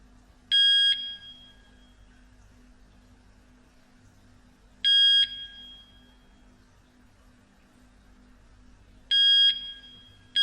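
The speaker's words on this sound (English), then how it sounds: "Hold down the set button on the siren for 4 beeps" Three short, shrill electronic beeps from an OSI wireless alarm siren sound at regular intervals of about four seconds, loud and piercing against a quiet low hum.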